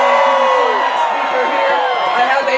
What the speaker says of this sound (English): Give yourself one last cheer.